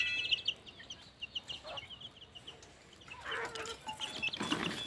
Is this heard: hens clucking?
yes